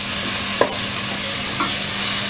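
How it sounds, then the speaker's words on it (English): Chili powder, turmeric and salt frying in a pan for a methi mutter malai dish, a steady sizzle with two short scraping stirs from a spoon, close and without speech. "chili powder, turmeric powder and salt. We need to cook these spices as well."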